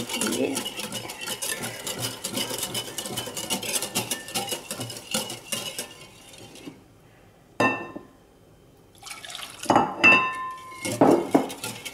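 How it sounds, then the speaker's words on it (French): A spoon scrapes and clinks around a pan as egg custard is stirred, a busy run of metallic scraping that breaks off, then resumes in short bursts with louder knocks toward the end. "je continue à remuer"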